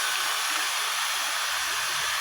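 A blower runs steadily on a large chamber setup, giving a continuous, even, airy hiss and rush throughout with no voices.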